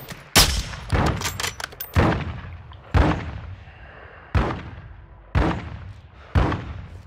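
Heavy gunfire in a video game, a series of about seven loud booming shots spaced roughly a second apart, each with a sharp crack and a long rumbling decay.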